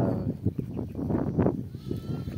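Grazing sheep bleat in a rapid series of short, near calls that overlap one another, rising and falling over a low background murmur.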